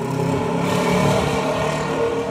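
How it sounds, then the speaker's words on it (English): Loud motorcycle engine revving amid Manhattan street traffic, a continuous close roar with steady rumble throughout. "That guy's got a really loud motorcycle."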